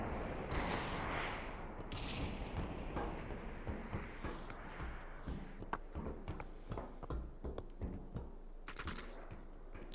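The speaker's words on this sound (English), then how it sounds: "That is Purple Magnum unloading it at those builds to try to destroy them" Purple Magnum gunfire in the VR shooter Population: ONE, fired at player-built structures: a run of sharp, closely spaced shots over a dense, noisy game background, moderately loud and continuous.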